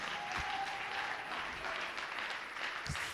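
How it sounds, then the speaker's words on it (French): Congregation at a French-language church service applauding and acclaiming the Lord, a dense steady wash of many hands clapping together, fairly loud and sustained throughout. "On acclame pour le Seigneur"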